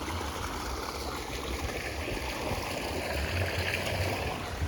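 Steady rushing of water from a farm irrigation pump outlet, a continuous broadband flow close by with a low churning rumble underneath and no talking.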